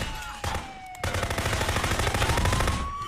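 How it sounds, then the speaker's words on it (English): Gunfire from the police video game Contraband Police: a quick string of shots crackles over a wailing siren tone, loud and close, forming a rapid rhythmic burst after a couple of sharp single cracks. "I got shots fired! Shots fired!"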